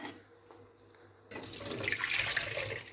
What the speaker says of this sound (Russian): сейчас солью воду